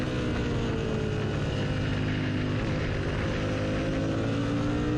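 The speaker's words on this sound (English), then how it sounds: "you'll hear I can't get into 4th gear." A lightweight race motorcycle at an Autobahn track roars loudly and continuously, its engine holding a sustained drone as the rider struggles to shift into fourth gear.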